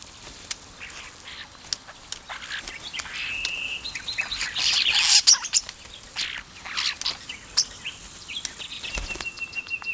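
Starlings calling and chirping outdoors, with scattered short bird calls and brief wing flaps at moderate distance, louder and busier around the middle, then thinning out.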